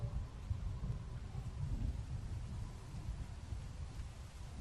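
Deep, steady rumble of thunder from an approaching storm in The Walking Dead game, a low continuous roll with faint wind-like hiss, no voices.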